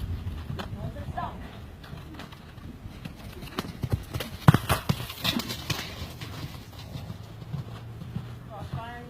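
A horse canters during a riding lesson, its hooves thudding on the ground in an uneven rhythm that grows louder in the middle; a voice talks over the hoofbeats.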